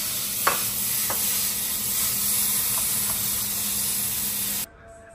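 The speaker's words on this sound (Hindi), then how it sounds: "अभी सालन गरम हो रहा है हमारा" Curry (salan) heating in a pan on a home stove, giving a steady close hiss and faint sizzle with a few soft clinks, cutting off abruptly near the end; no one speaks.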